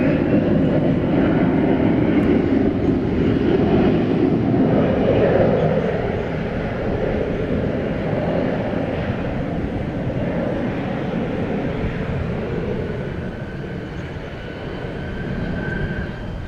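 An American Eagle Embraer 175 jet takes off at Dallas/Fort Worth airport at night, its engine roar broad and steady, loudest at first and then slowly fading as it moves away.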